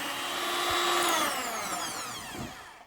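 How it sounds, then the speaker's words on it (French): An electric hand mixer whirs steadily at close range as it beats egg yolks with sugar, a continuous high motor whine that slowly shifts in pitch without pause. "je me munis d'un batteur. Je vais battre mes œufs en y incorporant mon sucre petit à petit."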